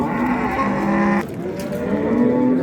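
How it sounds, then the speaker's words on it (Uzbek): A pregnant Estonian-breed cow moos long and loud, one sustained low call that pauses briefly and then resumes, close by with no talk. "Eston sigirimiz."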